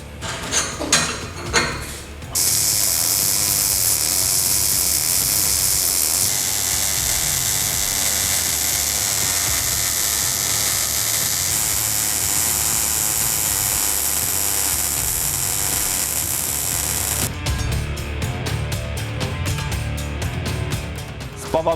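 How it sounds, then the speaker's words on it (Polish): MIG welding of aluminium with a Spartus EasyMIG 217 Dual Pulse welder, a loud continuous buzzing arc hiss lasting most of the clip, with a brief crackling start and a rapid pulsing buzz near the end. "Przystępujemy do spawania."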